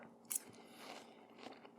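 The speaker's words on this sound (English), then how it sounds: "Chewing sounds great on camera" A man biting into and chewing watermelon, with a sharp crisp bite near the start followed by soft, wet, crunchy chewing up close and quiet.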